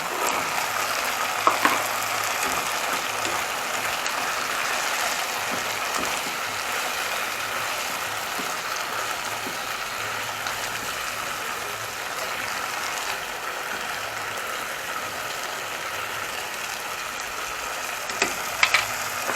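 Chicken thigh stew simmering in a pot after potato and carrots go in, giving a steady, moderately loud bubbling sizzle that runs without a break, with a few faint clinks near the start and end.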